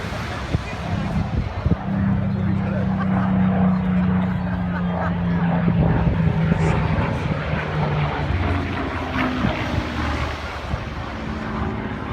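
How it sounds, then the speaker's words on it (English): A Mark 9 Spitfire in desert camouflage, registration MK356, runs in at the 2019 Bournemouth air show. Its piston engine gives a steady, full droning roar that holds for the whole stretch, with a voice faintly over it. "Mark is running down in our Mark 9 Spitfire, ready."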